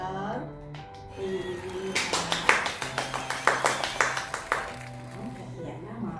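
A short burst of hand clapping from a small group, brisk and fairly close, rising for a few seconds on a children's radio program in Samarinda over tonal background sound and faint voices.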